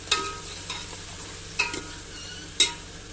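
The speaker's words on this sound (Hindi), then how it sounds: "और हम इसको फ्राई कर लेंगे आलूओं को इसमें प्याज के साथ ही। आलू हमारे फ्राई हो रहे हैं।" Potatoes frying with onions in a pan while pulao is being made, with a few scraping stir strokes over a steady low sizzle, close and fairly quiet.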